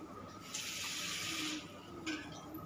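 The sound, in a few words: water being poured into cooking dal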